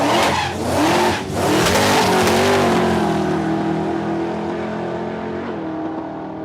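A supercharged ute drag racing down a raceway strip, its engine running rough, roars loudly with a wavering, rising pitch that then holds and slowly fades as it pulls away.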